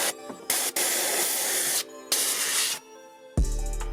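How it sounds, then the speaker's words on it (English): Compressed air from a blow tool hisses in several sharp bursts, cutting on and off with short gaps, as it clears dirt out of the rocker cavities on a Jeep Cherokee XJ. "what I'm gonna do is just blow out, you know, the cavities"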